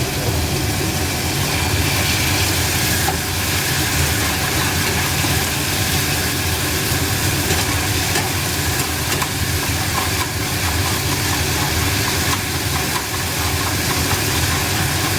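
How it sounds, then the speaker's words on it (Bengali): Water poured onto spice paste frying in oil for Bengali tel koi raises a loud, continuous steamy hiss that stays close and steady throughout, with no speech. "এবারে একটু জল দেবো, অল্প পরিমাণ জল দেবো।"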